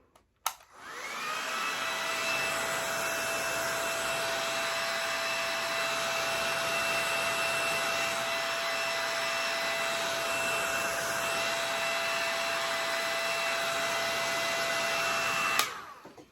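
A handheld blow dryer on its cool setting dries lace glue on a wig closure, giving a steady, close whirring blast with a constant whine that runs unbroken for about fifteen seconds before cutting off.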